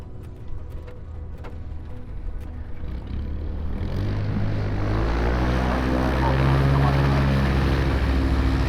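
Engine of a small propeller aircraft drones with a low buzz that swells noticeably halfway through, growing louder and fuller toward the end.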